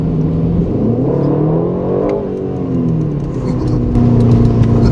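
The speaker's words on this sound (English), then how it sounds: "you just hear all those turbos wind up" Aston Martin Vantage with a turbocharged engine revving in Track Mode, a steady close-up whir and engine drone with rising and falling pitch under a voice.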